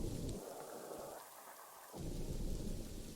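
Rain weather in the zoo-building game Planet Zoo, a steady broadband wash of falling rain with low rumbling, briefly thinning in the middle before swelling back, fairly quiet and with no voices.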